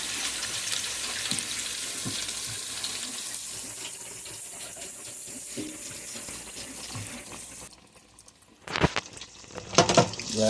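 Sheepshead fish fillets fry in hot oil with a steady sizzling hiss and bubbling crackle that continues for several seconds, then drops away before a few sharp clatters and spatters.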